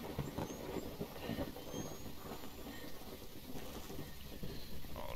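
Rain falls steadily in the horror video game Phasmophobia, a dense hiss with low rumbling thunder beneath it, constant and fairly quiet throughout.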